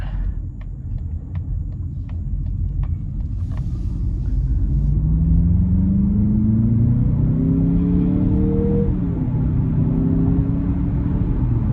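A 2024 Mazda CX-50 Meridian SUV engine revs in sport mode: a loud, steady rumble whose pitch climbs smoothly, drops briefly and rises again, heard from inside the cabin with a few faint clicks at the start.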